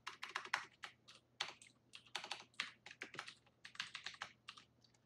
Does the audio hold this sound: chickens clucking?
no